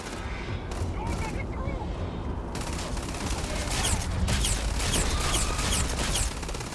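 Rapid gunfire from the video game Starfield during a fight with a Terrormorph, a dense stream of shots and impacts that is loud and continuous under game effects, with someone talking over parts of it.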